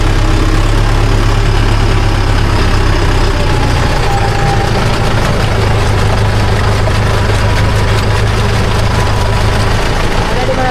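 A tractor engine idles while standing in a pond on a flooded road, a heavy low chugging drone that runs steadily throughout and shifts slightly partway through.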